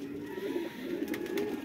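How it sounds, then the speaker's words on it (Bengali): Sulpar pigeons coo softly and continuously inside their loft in Saudi Arabia, a low steady murmur with no talking. "এটা হলো সুলপার কবুতর।"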